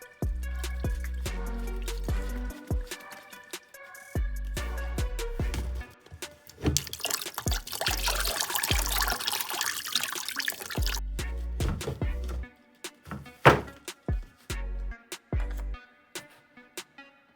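A dead car battery is sloshed with rinse water and then drained, producing close, uneven gurgling and splashing, a longer rushing pour in the middle, then scattered drips and knocks.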